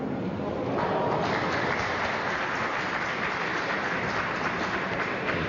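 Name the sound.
applause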